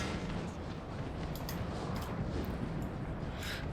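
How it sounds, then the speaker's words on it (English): Artillery guns firing in the Napoleonic battle game Napoleon: Total War, a dense rolling rumble of distant cannon fire with a few sharper booms breaking through the continuous roar. "And we'll have the guns cease firing."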